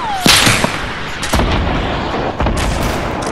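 Shotgun blasts in Fortnite on PS4, a few loud sharp booming shots spaced about a second apart amid game noise, with no voices.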